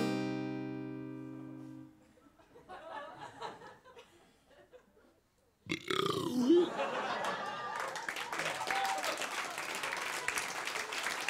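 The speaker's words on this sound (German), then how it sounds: "Hab ich gerade Applaus für ein Bäuerchen gekriegt?" A comedian's burp on stage at a live comedy show, a short low belch followed after a pause by a burst of audience applause and laughter that keeps going loudly.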